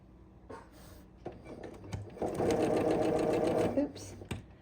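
Close-up sewing machine stitching pairs of quilt pieces for a thread-painted pumpkin quilt, short taps first, then a few seconds of steady fast whirring before it slows and stops.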